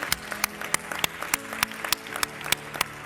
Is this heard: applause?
yes